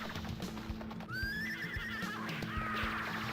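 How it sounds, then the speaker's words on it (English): Horse neighing in the Rastan Saga arcade game Warrior Blade: Rastan Saga Ep. III, a loud rising whinny over clip-clopping hooves and steady game music. "Oh, the horse can jump."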